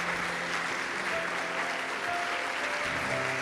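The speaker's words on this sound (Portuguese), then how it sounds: "eu quero que você já dê ao Senhor um forte aplauso pela decisão dessas pessoas" A church congregation applauds, a dense, steady wash of many hands clapping together throughout, with a faint voice or tone showing through the crowd noise.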